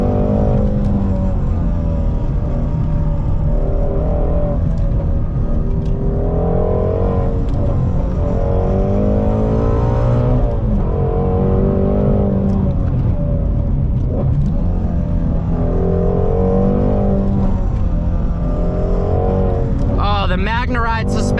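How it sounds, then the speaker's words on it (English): A Ford Shelby GT350R engine roars steadily throughout, with deep exhaust rumble and rising, falling revs as it drives, loud and close. "let you just listen to the exhaust"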